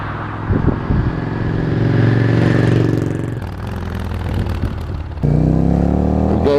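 A Yamaha Dragstar 650 cruiser motorcycle riding and accelerating, its deep V-twin engine loud and close, revving up through a gear, dipping briefly on a shift, then pulling hard again.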